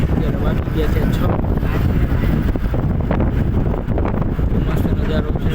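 Strong wind buffets the microphone in a taxi heading along the mountain road from Rudraprayag to Badrinath, a loud, continuous roar and rumble with no pauses.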